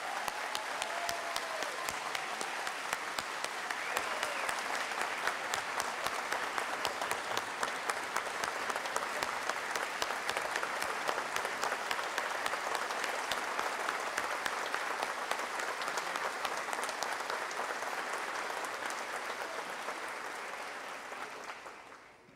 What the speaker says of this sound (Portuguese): uma calorosa salva de palmas para o nosso Aldo